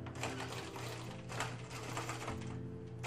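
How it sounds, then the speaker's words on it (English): A sewing machine runs steadily across the top edge of a drain bag apron, its rapid rhythmic clatter close and continuous for the whole stretch with no voices. "we're just going to sew across the top."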